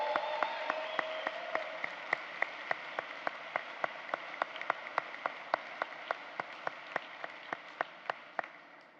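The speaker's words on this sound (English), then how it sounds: "Let's give them all a round of applause." Sustained applause from a large audience at a business school graduation ceremony, a dense even wash of clapping across the whole stretch with distinct sharp claps standing out, gradually thinning at the end.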